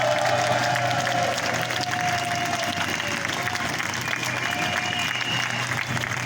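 Steady applause from a crowd at a protest against the COVID health pass and mandatory vaccination, continuous and fairly loud throughout, with a faint murmur of voices beneath the clapping.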